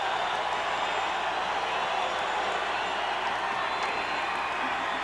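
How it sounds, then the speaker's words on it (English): Stadium crowd at a 1998 college football game against Montana State, a dense continuous roar of cheering and noise from many voices held steady and loud throughout, with no distinct claps standing out. "The crowd really getting into it."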